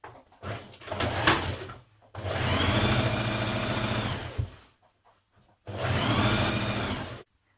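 A sewing machine stitches the side seam of a spring dress in bursts: one uneven start, then two longer steady whirring runs separated by quiet pauses.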